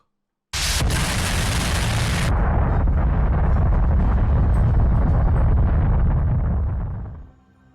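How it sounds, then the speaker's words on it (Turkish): A sudden, massive explosion from a plane colliding with a Dash 8 aircraft at an airport in Japan erupts and rolls into a sustained, thundering roar that gradually fades after several seconds. "Çarpışma sonucu büyük bir patlama yaşandı."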